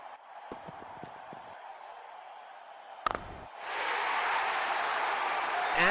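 A crowd at a cricket match between Team Abu Dhabi and Ajman Bolts cheers and applauds, beginning as a moderate roar and then surging into a louder, sustained wave of cheering and clapping.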